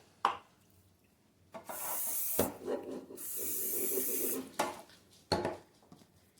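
Hissing bursts of aerosol cooking spray onto a bread pan, one long spray in the middle, with clinks and scrapes of cookware before and after.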